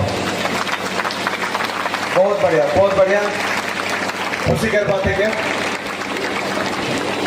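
A crowd at a World Tribal Day event in Rourkela claps steadily throughout while someone speaks loudly over the applause.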